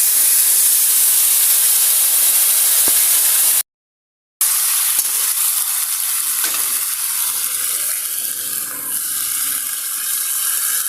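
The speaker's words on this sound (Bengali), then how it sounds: "তো আমি কিছুক্ষণ ভালো করে ভেজে নেব, হালকা একটু জল দেব" Potatoes fry in a pan with a loud, continuous hissing sizzle, cut off by a brief silence before the frying resumes somewhat softer as a little water goes in and is stirred.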